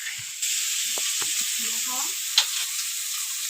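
Steady sizzling of onions and garlic frying in a pan with spices, with a few scraping stirs and a brief clatter partway through.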